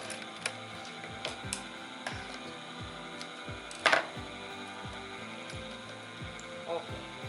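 Home sewing machine running a straight seam on fabric at 2 cm, with soft repeated ticking and clicking of the mechanism at a steady pace and one louder clatter midway, fairly quiet and close.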